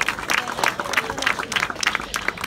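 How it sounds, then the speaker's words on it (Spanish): A crowd at a plaque-presentation memorial ceremony claps for the honorary president of Levante Unión Deportiva, steady close applause throughout. "un aplauso para el presidente de Honor del Levante Unión Deportiva"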